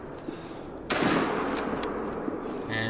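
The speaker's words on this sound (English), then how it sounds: "Let's go ahead and bring out the 303. 0 for 150. And go ahead and take the shot." A single sharp .303 rifle shot in a hunting video game, loud and sudden, followed by a long rolling echo that decays over nearly two seconds amid quiet outdoor ambience.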